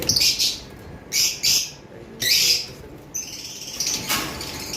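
Caged lovebirds chirping in short bursts of sharp, high tweets separated by brief pauses, close by, with faint background noise and no talk.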